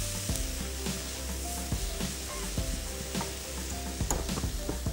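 Vegetables fry in a hot pan with a steady loud sizzle, broken by repeated scraping and clanking of a spoon stirring against the metal, up close with no voices.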